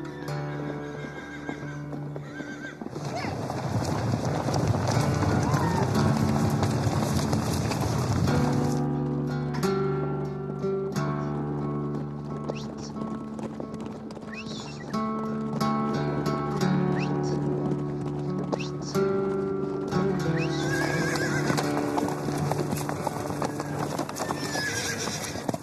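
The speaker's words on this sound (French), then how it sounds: "les chevaux du ranch sont relâchés dans les montagnes et passent la nuit en totale liberté." Ranch horses in the mountains neigh and whinny loudly and repeatedly, with the steady clip-clop of hooves underneath throughout, some calls close and some farther off.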